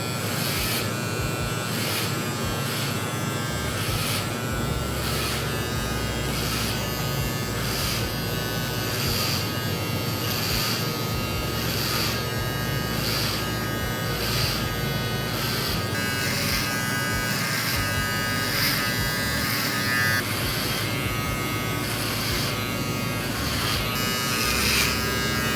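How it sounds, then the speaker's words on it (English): An electric hair trimmer cuts the first guide of a skin fade at a barber's chair. It makes a steady, close, continuous buzz for the whole stretch, with slight pulsing as it moves through the hair. "Next with my trimmer, I'm gonna make my first guide."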